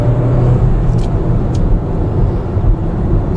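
A 2014 Volkswagen Jetta Hybrid cruising on a highway, its steady engine hum and road and tire roar filling a loud, even drone with no voices.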